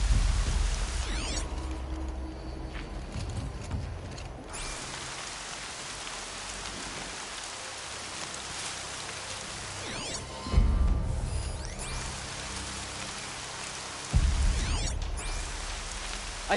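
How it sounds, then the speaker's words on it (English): Rain in the Horizon Zero Dawn video game patters steadily on surfaces for the whole stretch, a soft constant hiss broken by a few louder swooshing bursts and thumps. "Rain's not so bad."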